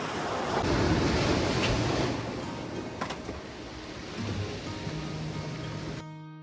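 Surf washing ashore on Elba island under gusty late-October wind hitting the microphone, loud at first and then easing, before music comes in at the very end.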